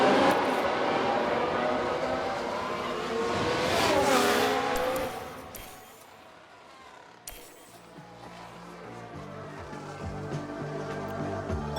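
A Formula 1 car engine roars and screeches as it spins out, then fades to quieter engine tones from other cars passing, game-like and fairly close, from the video game F1 Manager 2022.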